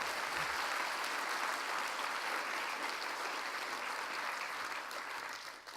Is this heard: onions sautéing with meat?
no